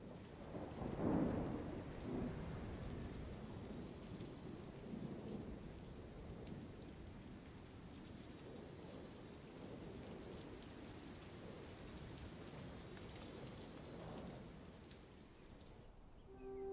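A thunderstorm passes over the sagebrush desert with a deep rumble of thunder near the start and again later, while steady rain patters on the ground throughout.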